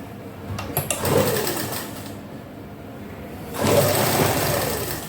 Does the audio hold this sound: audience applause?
no